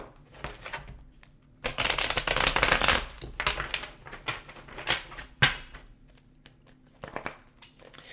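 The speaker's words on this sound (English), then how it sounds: "Just going to give it a couple of shuffles." Papery riffling and flapping of a tarot deck being shuffled in several bursts, with sharp snaps and pauses between them, close up and without speech.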